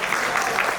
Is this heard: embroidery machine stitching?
no